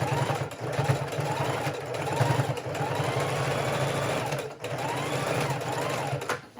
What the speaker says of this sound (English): making sure that you have that edge thoroughly sewn so you are not losing anything that you tuck in that pocket